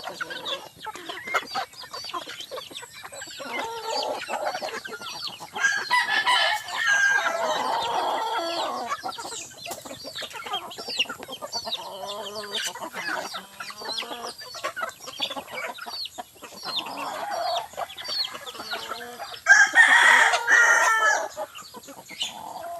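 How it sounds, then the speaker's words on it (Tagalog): A flock of chickens at feeding time, clucking busily and squawking close by, with a rooster crowing partway through and again near the end, with no talking. "kaya magpakain na tayo ng ating mga chicken"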